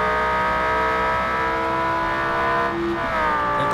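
Car accelerating in Estate Agent Simulator, a loud steady engine whine with stacked harmonics holding pitch, briefly dipping before surging again near the end, no voices.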